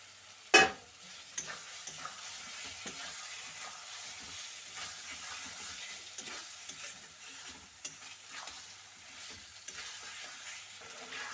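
Potatoes added to a spice masala in oil, a sharp clatter at first, then a soft, low sizzle with occasional stirring scrapes, fairly quiet throughout.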